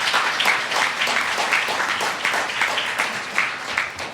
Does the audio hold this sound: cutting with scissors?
no